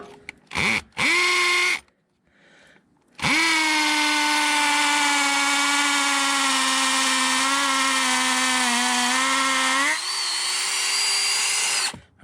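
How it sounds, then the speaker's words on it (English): Power drill set on hammer mode pre-drilling holes while installing a wood stove, whining loudly in two short bursts and then one long continuous run that shifts pitch near the end. "All right, so I'm just gonna pre-drill."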